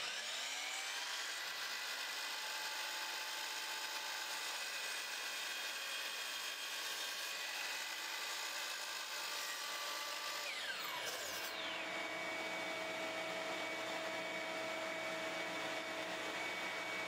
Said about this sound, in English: I've finally decided to up my game and purchase this compound miter saw.